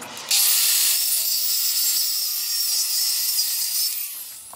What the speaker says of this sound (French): il ne vous reste plus qu'à les couper avec une scie circulaire